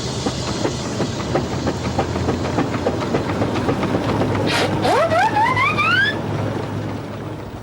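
Preserved steam engines running at a vintage rally: a steady mechanical chugging and rumble with a continuous hiss, joined near the end by a rising whistle-like tone.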